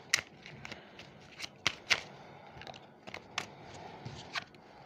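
Playing cards being shuffled by hand, a few quiet riffling bursts and soft snaps spaced irregularly, close but faint with no talking.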